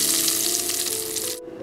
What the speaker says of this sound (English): Now you can turn off the flame and add this tempering into our dal